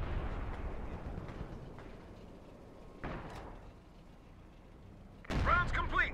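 Artillery fires in the Company of Heroes 2 battle on the Sittard Summer map: two heavy booming blasts a few seconds apart over a low rumbling battlefield background, the second louder and closer.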